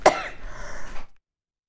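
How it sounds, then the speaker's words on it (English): A woman gives one sharp, close cough and then a short throat clearing on a sewing show set, ending in silence. "She's got a bout of the coughing."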